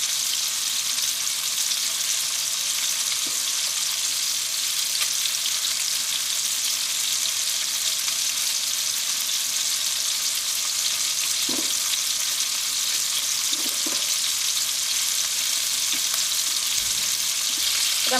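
Fish frying in hot oil for a fish pickle gives a loud, steady sizzle that runs without a break, with a few faint clinks underneath.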